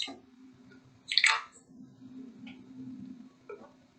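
Hot coffee poured over ice, a brief splashing pour followed by faint scattered drips and small cracking ticks against a low steady hum, quiet and close.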